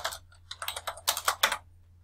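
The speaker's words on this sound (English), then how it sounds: "I can type in the file that I want to run." Computer keyboard keys tapped in a quick, close run of crisp clicks, gathering into a denser burst before stopping, with no voices.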